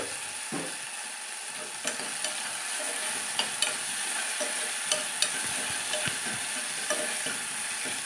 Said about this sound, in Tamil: நல்லா வந்து மிக்ஸ் பண்ணி விட்டு எல்லாமே சேர்ந்து நல்லா வதங்கட்டும்